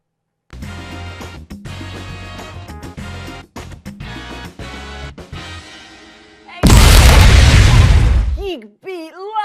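A loud explosion sound effect bursts in after several seconds of music, a dense, roaring blast lasting roughly two seconds before someone speaks over its tail.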